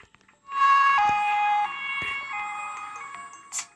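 An ambulance siren in a fungus world-domination game wails in a single clear electronic tone sweep lasting a few seconds, fairly loud and alone, then trailing off.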